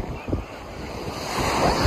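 Ocean waves wash steadily onto Carmel beach, a loud broadband rush of surf mixed with gusting wind buffeting the microphone.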